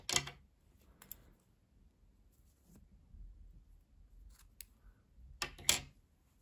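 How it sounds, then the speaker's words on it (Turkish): Scissors snip through knitting yarn in a few sharp, quiet cuts spaced apart, close up in a calm room with no talking. "İpliği kesiyorum."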